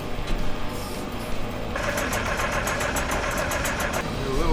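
A Perkins six-cylinder diesel engine running on a Massey Ferguson 860 combine, a steady mid-pitched idle with a rapid mechanical clatter and fan whir throughout.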